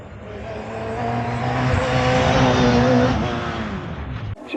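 A race car at a hill climb puts the power down out of a hairpin with the rear end sliding, its engine rising to a loud, strained howl for a few seconds before cutting off abruptly. No voices are present.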